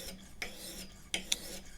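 An axe blade is worked against a sharpening jig to raise a burr, giving a few faint, brief scraping strokes spaced unevenly over a quiet background.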